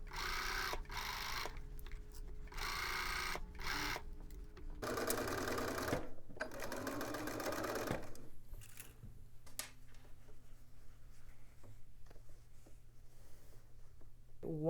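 Sewing machine running a seam along piping with a zipper foot and contrasting thread, several steady stitching bursts separated by short pauses, fairly close and moderately loud with no talking.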